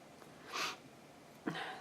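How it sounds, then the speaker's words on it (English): A person sniffs twice while working at a craft table, two short breathy nasal intakes about a second apart, close and fairly soft against a quiet room. "Sorry, I keep sniffing."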